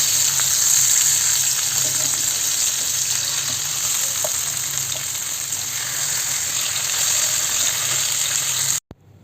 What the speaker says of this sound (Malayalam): ഇനി ഇതൊന്ന് മറച്ചിട്ടിട്ട് അടുത്ത ഭാഗം കൂടി ഒന്ന് മുരിയിച്ചെടുക്കാം